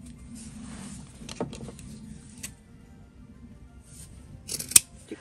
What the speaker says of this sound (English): we're going to cut it into two.